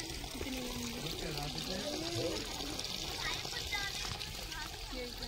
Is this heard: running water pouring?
yes